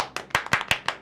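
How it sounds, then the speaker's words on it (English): A few people clap briefly in quick, uneven claps, close and fairly quiet. "give our dungeon master here, Dougie, a very good round of applause for playing a crazy person."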